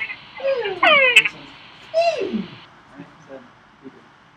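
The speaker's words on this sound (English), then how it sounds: "So, this is a Kangara frog. Okay, and that's its call." A recording of a Kangara frog calling plays back, giving a few descending, chirping croaks, with fainter calls trailing off afterward.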